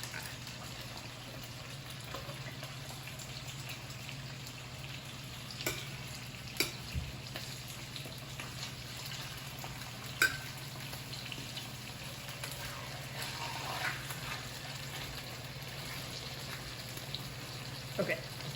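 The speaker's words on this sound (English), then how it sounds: "Sizzle away. Skin side down." Soft, steady sizzling of chicken pieces frying skin side down in a pan, with occasional clinks and light kitchen clatter over a low hum.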